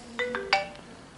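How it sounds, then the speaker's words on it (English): A phone ringing during a country-town auction of furniture, collectibles and kitchenware, giving three short, bright tonal chirps in quick succession at moderate loudness over a quiet room. "Turn the phone off."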